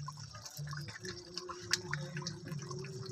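Spoonfuls of kewra water go into chicken chaap cooking in a pan, making a quiet run of close liquid drips and splashes over a soft hum, with no talk.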